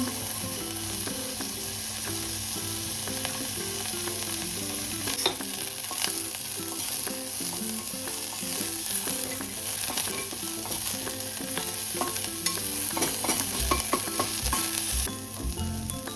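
Garlic and onion frying in a little oil for a soup, giving a steady, close sizzle with stirring scrapes throughout, running alone and at an even level without any talk over it.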